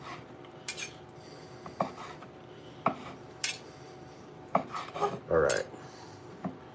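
A kitchen knife slices meat across the grain on a cutting board, a handful of short scraping strokes and light clicks spaced out over a quiet background.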